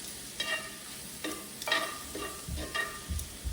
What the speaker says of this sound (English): And as we saute those